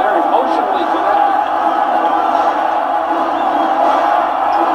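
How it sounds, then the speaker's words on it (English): An arena crowd at an NBA basketball game between the Chicago Bulls and the Cleveland Cavaliers cheers and roars in a loud, sustained, even wall of noise that holds steady throughout, with no break. "Crowd gets excited again."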